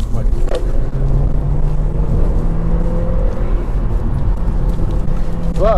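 A Volkswagen Polo GT driving on a two-lane road, heard from inside: a steady, loud engine drone with low road rumble, its pitch shifting gently as the car cruises, with brief tonal sweeps near the end.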